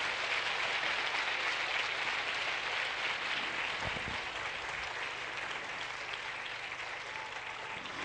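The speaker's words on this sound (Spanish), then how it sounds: "Un aplauso a Juan Pablo II." Steady, dense applause from a large church congregation honoring Pope John Paul II, sustained loudly throughout with no pauses.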